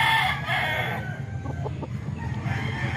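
A Lemon Sweater gamefowl rooster, about a year old, crowing close by, a single drawn-out crow followed by short clucks over steady outdoor background noise.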